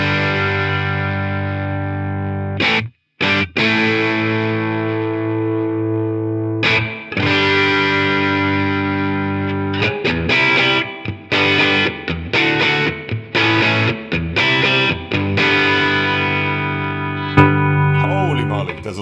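An electric guitar played through a ToneX One pedal with gate, compression and reverb: sustained distorted chords and riffs, heavily compressed, with sharp gated cutoffs between phrases, loud and close.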